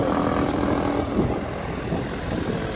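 Propeller aircraft performing an air show demonstration at Etampes, a steady broad engine and propeller roar holding at a constant level throughout, fairly close and loud.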